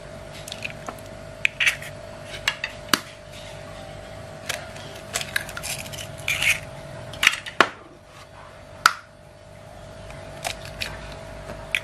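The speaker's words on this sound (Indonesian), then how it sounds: "Sekarang kita bakal masukin telurnya." Whole eggs and a yolk being cracked and dropped into a mixing bowl for a sponge roll cake: soft wet squishes and drips, broken by sharp clicks of shell against the bowl, close and intermittent.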